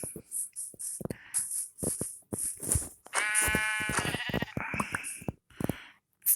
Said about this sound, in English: there's a sheep right here.